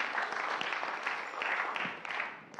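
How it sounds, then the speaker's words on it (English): Church congregation applauding the Ablaze and Rejoice choirs during a contemporary worship service, a steady wash of many hands clapping at moderate distance, tapering slightly at the end. "Let's clap for them as well"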